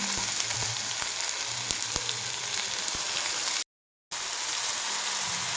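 Curry leaves and chopped tomato hit hot oil in a pan for egg masala gravy, giving a loud, steady close-up sizzle with faint crackles, briefly cut to silence near the end before the frying resumes.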